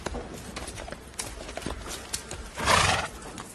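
A horse snorts and whinnies amid soft hoof clops and rustling, the neigh swelling loudly near the end, in a fantasy film scene.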